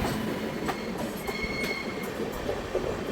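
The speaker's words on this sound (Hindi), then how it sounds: "अभी हम एंटर कर रहे हैं कसारा रेलवे स्टेशन।" LTT Sitapur Express (12107) hauled by a WAG 9 locomotive entering Kasara railway station, heard from inside a sleeper coach: a steady rumble of rolling wheels with faint metallic squeals and clatter, continuous and fairly close, with no talking.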